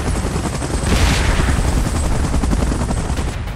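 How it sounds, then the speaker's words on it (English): A helicopter arrives for an evacuation in PUBG Mobile: a loud, close, continuous rotor roar with a rapid chopping flutter throughout, and no talking. "Chopper in position."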